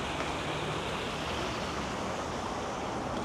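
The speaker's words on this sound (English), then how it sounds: "Sound of the water." A small river in Holmfirth, West Yorkshire, flows with a steady, close rushing and babbling wash of water, constant and unbroken across the short stretch, with no voices.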